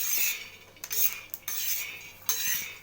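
Peanuts dry-roasting in a pan, a metal spoon scraping and clinking against the pan in a few brisk strokes over a faint background hiss, close and with no talking.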